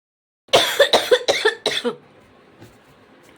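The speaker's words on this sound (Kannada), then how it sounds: "ನಾನು ಭಾಳ ಅಂದ್ರೆ ಭಾಳ ಕೆಮ್ಮು ಹೊಂಟದ ಊಟ ಆಗುವಾಗ" Four quick, harsh coughs from a person at a meal, close by in a rapid burst, followed by quiet background.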